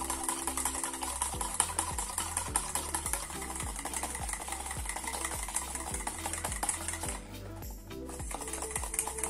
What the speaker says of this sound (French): Et je continue à mélanger à froid pour que mon émulsion prenne bien.